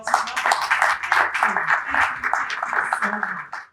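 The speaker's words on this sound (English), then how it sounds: "Can we please give Arnold a resounding applause?" Audience applause for a conference speaker at a strategic finance summit, a steady burst of many hands clapping that lasts nearly four seconds before tapering off, with some voices mixed in.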